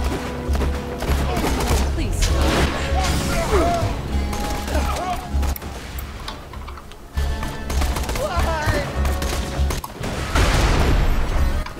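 Gunfire in the cooperative shooter Borderlands 2, with loud bursts of shots, crashes and impacts throughout, mixed with game effects and players talking over the action.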